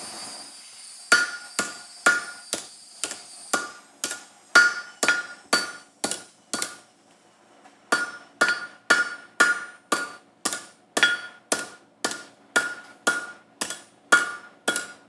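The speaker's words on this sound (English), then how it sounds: "I'm gonna hammer it here" Sharp metallic hammer blows on a metal sword hilt ring out in a steady rhythm, about two dozen strikes with a brief pause midway, loud and close.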